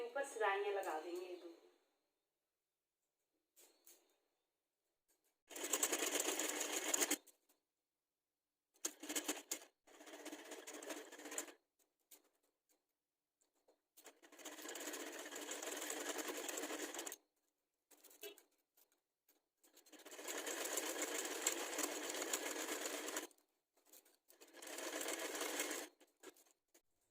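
Sewing machine running a seam across the neckline of a girl's top in several loud, close bursts of steady whirring separated by silences, with a brief voice at the start.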